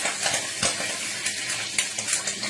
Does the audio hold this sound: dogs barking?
no